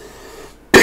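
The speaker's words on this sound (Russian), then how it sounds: "За кашель прошу прощения." A single sharp, loud cough bursts out at the very end, after nearly a second of quiet room tone, from a narrator recording a computer tutorial.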